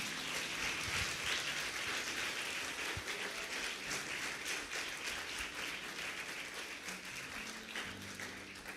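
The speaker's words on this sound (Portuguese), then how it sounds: "Você pode aplaudir a Jesus?" A church congregation claps together at the close of a prayer in a service, a thick, continuous rain-like patter of applause lasting several seconds at a steady level, with a few scattered voices underneath.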